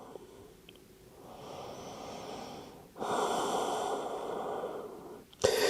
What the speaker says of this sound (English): Big inhale, slow exhale.